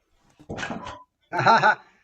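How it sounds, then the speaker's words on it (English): A dog barks outdoors in two bursts, each a quick run of rough, mid-pitched barks separated by a short pause, fairly close and loud with no talk over them. "my dog's barking as well outside"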